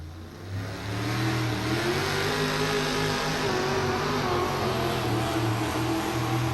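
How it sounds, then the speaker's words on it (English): A fuel-injected mini rod tractor with eight stacks roars loudly and steadily at high revs during a tractor pull, a dense continuous engine drone with strong low harmonics. "There again, a fuel-injected tractor."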